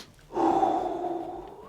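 A close, loud sniff taken from a freshly opened Warhammer Underworlds: Wyrdhollow tabletop game box, one sustained breathy inhale lasting about a second and a half with no talking.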